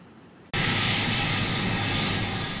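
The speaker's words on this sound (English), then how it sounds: "Within a day of the planes taking off" Airplane engine noise from planes taking off with vaccine shipments: after a half-second of quiet, a loud, steady broadband engine roar sets in abruptly and holds at close range without any voices.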